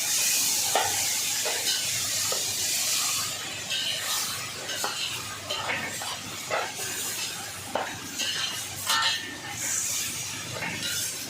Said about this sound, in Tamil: இப்போ கட் பண்ணி வச்சுருக்க தக்காளியை சேர்த்துக்கலாம். இதையும் நல்லா வதக்கிக்கலாம்.